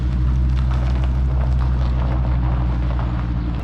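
The engine of a 1995 Ford F150 Eddie Bauer 2WD pickup roars loudly and steadily throughout, a dense, rumbling idle close to the listener.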